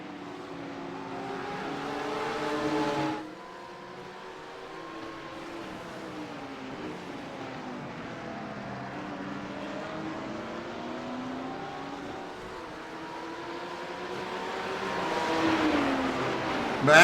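GT3 race cars lap the Imola circuit in a racing video game, a BMW and an Audi among them: a steady, continuous engine drone with shifting pitch throughout, briefly louder at the start and swelling again near the end as cars pass.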